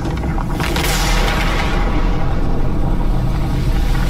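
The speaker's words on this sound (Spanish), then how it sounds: "gané por explosión nuclear" A nuclear explosion in a video game, a loud sustained rumbling boom with a bright burst at the start that rolls on as a dense, continuous roar without any talk.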